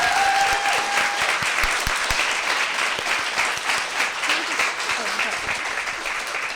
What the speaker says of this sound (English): So let's give them a last round of applause.